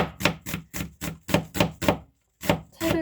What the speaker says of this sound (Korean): 채를 썰어 주고